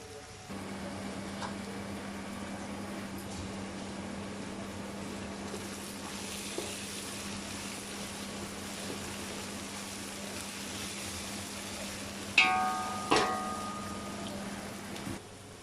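Onions fry in a pan for North Indian style masala biryani, a steady low sizzling hiss over a constant hum, with a couple of sharp utensil clinks near the end.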